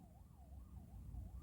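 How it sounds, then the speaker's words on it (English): A distant siren wails faintly, its tone rising and falling in slow regular sweeps over low, rumbling background noise. "is that a siren?"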